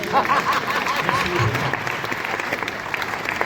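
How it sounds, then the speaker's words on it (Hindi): Audience at a Hindi comic poetry gathering claps together in a steady, full round of applause, with a voice briefly heard over the crowd at the start. "मेरे सम्मान में एक बार ताली बजा दीजिए।"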